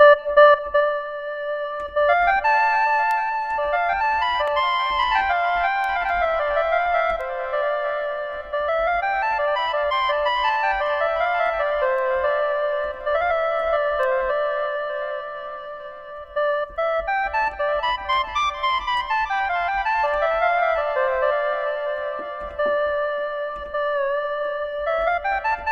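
A SynthMaster 2 synthesizer preset plays alone, a bright layered melodic pad with sustained harmonic tones and sweeping arpeggiated phrases rising and falling, steady and loud throughout with a soft low pulse beneath.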